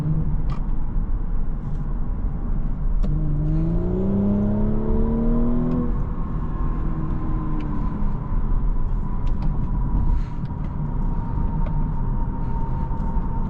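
A 2022 Audi S5 3.0T Sportback engine accelerating while driving, a steady loud drone with a rising pitch sweep around the middle as it pulls, then settling into an even cruising hum with no talk.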